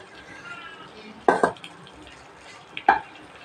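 Rice stirred into a pan of potato and capsicum, with a few sharp scraping clunks of a spoon against the pan among quiet cooking noise, no talk.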